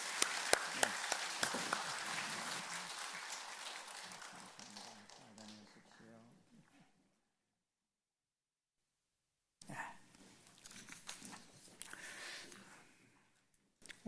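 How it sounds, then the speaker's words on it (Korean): A church congregation at a Sunday new-year revival service claps vigorously for several seconds, fading out into silence before another short burst of clapping and taps returns. "우리 한번 힘차게 박수하면서 보내겠습니다."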